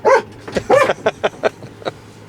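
A police K-9 dog barking close by, a burst of loud barks and yips in an irregular rhythm with short gaps, alone without talk.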